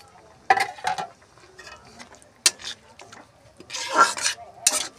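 Metal spoon stirring chopped coriander leaves into a thick prawn curry in a pan, with several scraping, clinking strokes in separate bursts, close and fairly soft, no talking.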